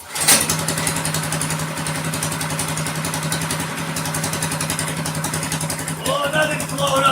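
A Predator 212 small engine fitted with a Go Power Sports stage 1 performance kit fires up on its first test start with the choke on, then settles into a loud, steady, close rattling idle before revving briefly near the end.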